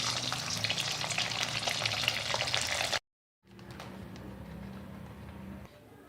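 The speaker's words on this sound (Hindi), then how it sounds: "अब मैं इसके अंदर मछली डालूँगी फ्राई करने के लिए।" Fish fries in hot oil with a loud, dense, crackling sizzle, close by. A short silent break follows, then a quieter, steadier fry continues.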